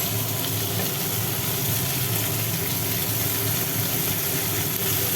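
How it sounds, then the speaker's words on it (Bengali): Tomatoes hiss and sizzle in a hot pan, a dense, steady frying noise heard up close with no voices over it. "পেঁয়াজটা ভাজা হয়ে গেল এবার টমেটোটা দিলাম"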